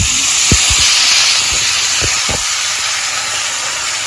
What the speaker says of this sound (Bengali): আলুর দম কষানো হয়ে গেছে, এখন একটু জল দিয়ে দিব।